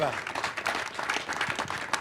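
A crowd claps at an engineering headquarters announcement in California, with steady dense applause under scattered voices and brief whoops.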